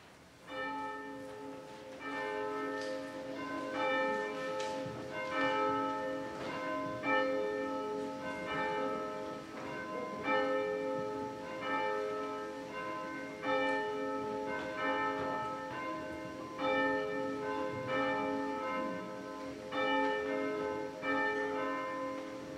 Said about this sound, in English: We begin our worship service with the ringing of the bells.